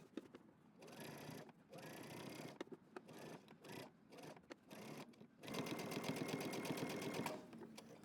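A sewing machine topstitching a denim jacket seam, a fast steady mechanical chatter that runs in several bursts with short pauses between, ending in a longer continuous run.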